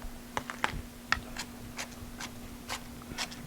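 Chopped onions scraped off a cutting board with a knife, a series of short, crisp scrapes and taps close by over a faint steady hum.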